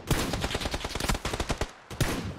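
Rapid bursts of hip-fired automatic gunfire in PUBG, a close, loud stream of sharp shots with a brief pause before a final volley.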